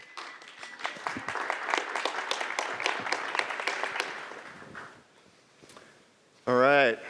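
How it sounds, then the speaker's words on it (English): A conference audience applauds steadily for several seconds, the clapping dense and then fading out, followed by a brief loud electronic tone. "So big round of applause for Tom."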